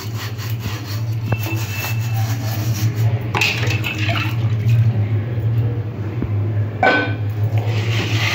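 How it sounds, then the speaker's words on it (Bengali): Water washing and scrubbing of an unglazed clay pot: repeated gritty rubbing strokes close by, with occasional splashes and running water over a steady low hum. "এবার এটাকেও এরকম করে ঘষে ঘষে একটু পরিষ্কার করে নেব। আমি এটা পরিষ্কার করে ধুয়ে নিলাম।"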